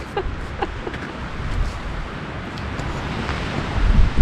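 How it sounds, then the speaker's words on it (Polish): Gusty wind buffets the microphone in uneven rushes on the 1206 m summit of Nosal, swelling louder toward the end, with faint distant clicks and no talking. "jakiś wiatr taki dziwny"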